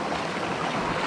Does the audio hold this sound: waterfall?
yes